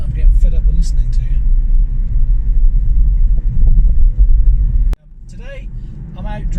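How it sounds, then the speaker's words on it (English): Low, steady road rumble inside a Hyundai Kona Electric driving along a road, fairly loud and continuous, broken by a sharp click and quieter cabin noise near the end, with a voice speaking over it. "Today, I'm out driving the Kona Electric"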